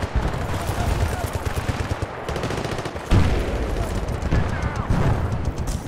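Rapid bursts of gunfire in the video game Battlefield Bad Company 2, during a Himalayan mountain Cold War mission, loud overlapping fusillades and automatic fire with booms throughout, under continuous game noise.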